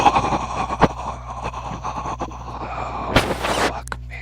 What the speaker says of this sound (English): All four of us together start heavily breathing in your microphones